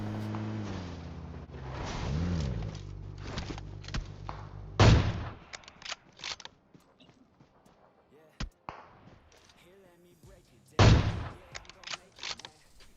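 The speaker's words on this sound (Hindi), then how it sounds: "गलती से गोली चल जाती है" Gunfire in a sniper-versus-sniper video game: a few sharp, loud shots stand out at intervals, with softer clicks and game noises between them after an opening stretch of droning tones.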